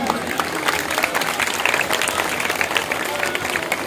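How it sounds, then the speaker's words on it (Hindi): Sustained audience applause at a welfare organization event in Arifwala, a dense, steady wash of many hands clapping at once, loud and continuous with crowd noise mixed in. "बार फिर से पुरजोर तालियां"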